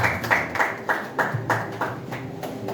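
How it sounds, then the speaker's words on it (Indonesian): Wedding guests at an Indonesian church blessing ceremony clap in a loose, moderate rhythm during the ring exchange, the claps soft and a little distant with murmuring beneath. "Boleh kita berikan sambutan tepuk tangan saudara"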